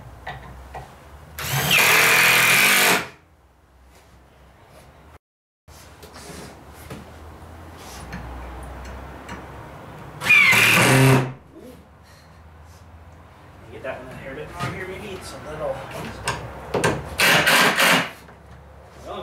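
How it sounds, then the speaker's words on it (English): A cordless drill runs in two loud bursts while a door is being built from wood, separated by quiet stretches with a third shorter burst near the end and faint talking in between. "Hopefully the drill keeps going."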